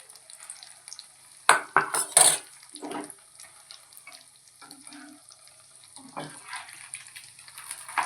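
Minced mutton hits a hot pan for an egg mutton mughlai, giving a few loud bursts of sizzle and clatter that settle into a faint, patchy frying sound.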